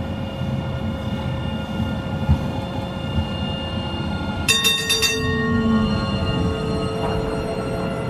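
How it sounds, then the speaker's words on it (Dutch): A tram rumbles forward at low speed with a steady electric hum and wheel noise, broken midway by a brief burst of clattering metallic clicks. "dan kunnen jullie filmen dat ik de tram naar voren ga rijden"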